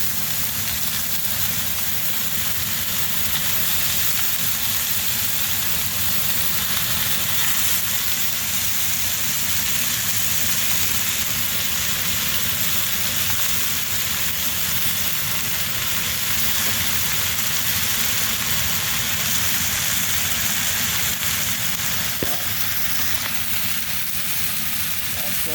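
Ground meat for a lasagna browns in a hot pan, a steady loud broadband sizzle and hiss holding without a break for over twenty seconds, no talking.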